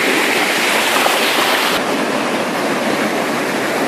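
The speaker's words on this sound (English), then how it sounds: "This is my first water wheel that I built." A homemade water wheel turns in flowing water, giving a constant loud rushing, splashing roar close by with no pauses.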